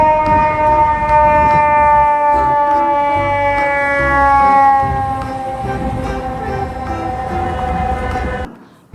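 A toy fire truck sounds a steady electronic siren with layered wailing tones that slowly drop in pitch, loud and close throughout, then cut off abruptly near the end.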